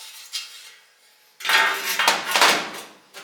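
A metal stovetop griddle is set down on a stove, a sudden loud metallic clatter and scraping rattle after a quiet start, close by and brief, with a few clinks as it settles.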